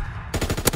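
Light machine gun fire from a World War II video game cuts in after a brief lull as a rapid, loud burst of evenly spaced shots, close and alone.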